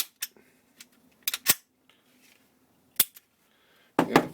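A Remington RP9 pistol slide is pushed down and cycled: a few sharp, close metallic clicks spaced apart, ending in a louder rattling clack.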